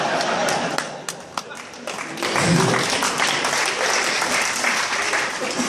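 Applause from a stand-up comedy crowd, scattered claps at first swelling into a fuller burst of clapping that carries on steadily, with a voice speaking over the early part.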